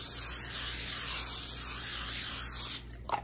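A continuous hissing spray of cooking oil from an aerosol can onto food lasts a few seconds, then cuts off, followed by a couple of faint clicks.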